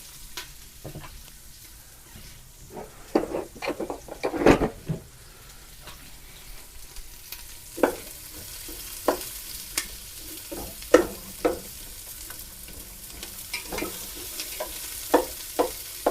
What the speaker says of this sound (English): we're gonna start sweating one onion. Ooh, listen to that sizzle